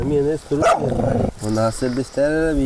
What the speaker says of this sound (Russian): С Эдуардом на охоту пошли все собаки, за исключением старенькой Тынгырах